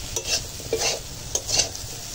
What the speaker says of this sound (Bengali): এখন মিষ্টি কুমড়োটা রান্না হচ্ছে।